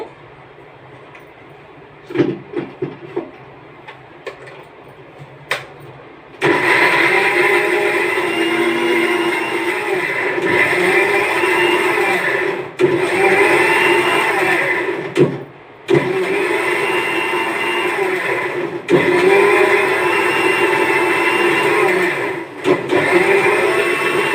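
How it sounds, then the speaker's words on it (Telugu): A kitchen mixer grinder starts up after a few clicks and whirs loudly as it grinds ginger and garlic with a little water into paste, running in several long bursts separated by brief pauses. "మిక్సీ"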